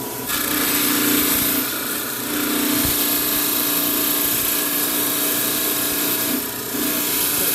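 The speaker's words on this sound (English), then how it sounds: "And we're just going to use the trim saw." A rock trim saw cutting through stone, a loud steady whine and grinding rasp held throughout with slight dips in intensity as the blade bites.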